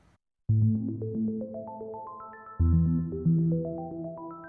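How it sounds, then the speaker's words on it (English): Synth arpeggiator playing rising stepped note patterns in quick even rhythm, restarting on fresh bass chords, clean and alone without talk. "On top of that, we have an arpeggiator"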